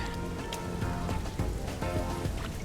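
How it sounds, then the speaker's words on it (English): Rain in the video game Master Detective Archives: Rain Code, a steady patter of drops on surfaces with scattered sharper splashes, fairly close and even throughout, no talking. "Gosh, it is raining all the time and it will not stop."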